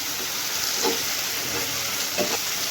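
Masala with green chillies sautéing in oil, giving a steady sizzle and frying hiss with a few soft stirring scrapes in the pan.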